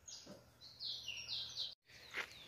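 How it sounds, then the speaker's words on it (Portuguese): Tico-tico songbird singing close by, a series of clear high whistled phrases with short pauses between them, heard alone over a faint low hum. "Mas esse passarinho tá com uma ordem muito grande. Aí, ó, começou a cantar."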